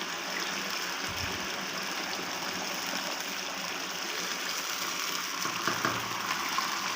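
Tomatoes sizzle in a pan for a chicken karahi, a steady dense hiss that runs throughout with faint scraping and clinking from stirring.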